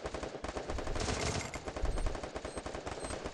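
Rapid automatic gunfire crackles in the Free Fire mobile shooter game, loud and dense bursts of shots rattling nearly nonstop for a few seconds.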